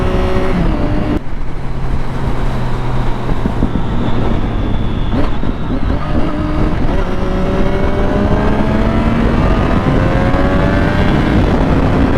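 A Triumph Daytona motorcycle runs loud and close on twisty roads, its engine droning steadily while the pitch rises and falls through the bends and gear changes, with no pauses.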